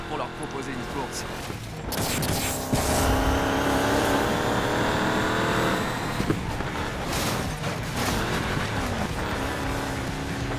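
Chevrolet Camaro SS with a large rear wing racing in Need for Speed Payback, a loud sustained engine roar with rising revs and gear changes, steady throughout with some crashing bursts.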